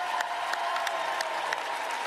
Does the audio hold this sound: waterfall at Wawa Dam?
no